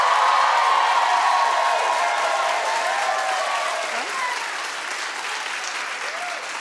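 A studio audience on a talk show about Real Housewives of Atlanta claps on request, a sustained, dense burst of applause that fades gradually toward the end.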